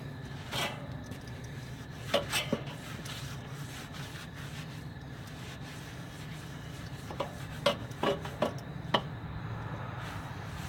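Oiled cloth held in tongs scraping along steak grill grates, a steady close rasping rub with several sharper scuffs and clicks scattered through.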